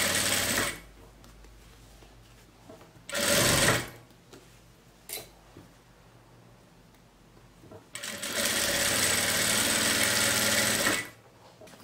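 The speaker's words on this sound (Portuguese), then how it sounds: "A gente vem aqui na máquina e a gente passa uma costura reta." A sewing machine stitches a straight seam on a small fabric placemat, running in loud, close whirring bursts: a short run, a brief one, a tick, then a longer steady run before stopping.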